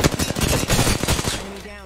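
Rapid automatic gunfire in the Apex Legends video game: a loud, dense burst of shots close up that rattles for over a second, then cuts off and fades into a short ringing tail.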